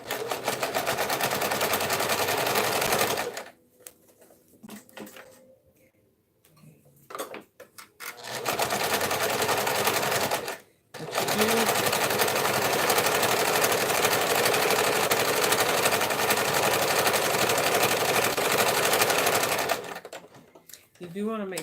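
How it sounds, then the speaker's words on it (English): A sewing machine stitches a label onto a tote bag in a fast, steady, close whirring run. It stops briefly twice, then continues for long stretches, with speech heard faintly in the pauses. "I'm gonna go ahead and put this one on and stitch it"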